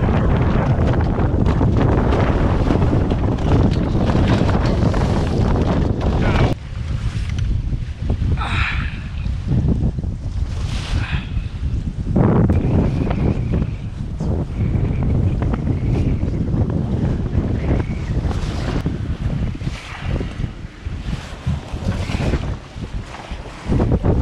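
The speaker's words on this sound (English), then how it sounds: "So getting a little too much wind again." Strong wind buffets a sailboat out on open water, a loud, continuous rushing roar with gusts that swell and ease, mixed with hull and water noise throughout.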